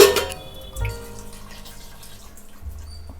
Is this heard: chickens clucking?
no